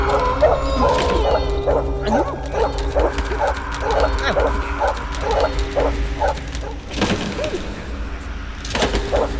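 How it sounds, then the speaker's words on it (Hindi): A dog barks repeatedly at night in a rhythmic series of yips, moderately near, over a steady low hum and some rustling. "कौन है कुत्ता भौंक रहा है?"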